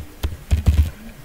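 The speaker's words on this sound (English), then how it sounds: "I am typing here where name like" Typing on a computer keyboard gives a short, close burst of about four or five crisp key clicks, with no voice over it.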